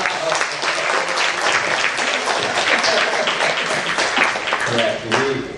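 Audience applause from a room of visiting university students at a meeting with Jakarta's deputy governor, steady dense clapping filling the whole stretch, loud and sustained, with a murmur of voices underneath toward the end.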